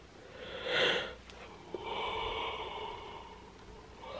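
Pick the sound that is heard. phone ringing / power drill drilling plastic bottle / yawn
yawn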